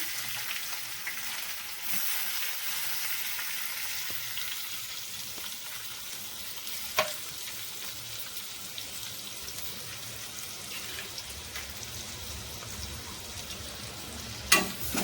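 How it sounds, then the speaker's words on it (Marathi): Onion, curry leaves and ginger-garlic paste fry in a pan on low flame for a prawn curry, giving a steady, moderately loud sizzle throughout with a couple of sharp clinks of stirring near the middle and the end. "त्याला चांगला आपण परतवून घ्यायचा आहे गोल्डन ब्राऊन होईपर्यंत."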